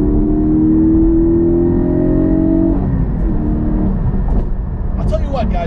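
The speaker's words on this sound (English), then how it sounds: "This is just the stock exhaust still." Flat-six engine of a 2020 Porsche GT4 with its stock exhaust, a steady droning hum while driving that shifts pitch as the revs change, with a faint whine on top.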